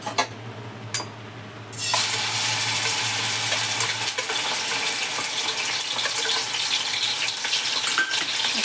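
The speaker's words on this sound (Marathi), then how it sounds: "चला आपण आता टाकूया कांद्याची पेस्ट।" Onion paste drops into three ladles of hot oil for a spicy egg curry (anda shev), setting off an abrupt, loud, steady sizzle that roars on close up without any talk.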